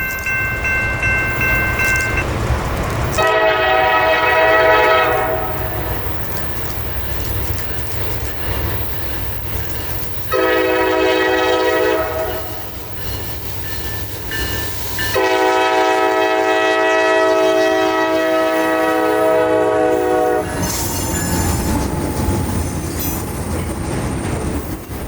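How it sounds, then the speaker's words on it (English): A loud, chime-like Nathan K5LA locomotive air horn on a CSX train sounds in long repeated blasts over the rumble of the passing train. "this locomotive still attaining a beautiful K5 LA horn"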